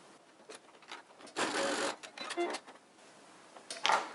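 A sewing machine runs a short double-folded stitch along a fabric face mask, brief whirring bursts separated by quiet pauses and small handling noises.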